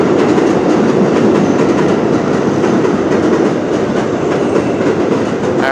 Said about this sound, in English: the train's gonna pass